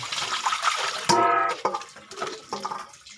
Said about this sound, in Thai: ล้างไปจนกว่าน้ำมันจะใสนะครับ